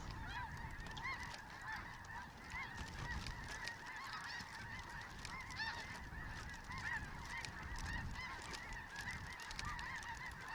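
A large flock of snow geese honks overhead during a hunt in Canada, the many overlapping calls forming a constant, busy chorus at moderate distance with no talking.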